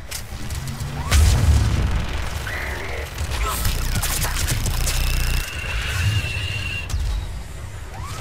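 Missiles launching and exploding in Mass Effect 3, heavy booming blasts and rumbling impacts in quick succession, loud and close, with a brief spoken voice mixed in.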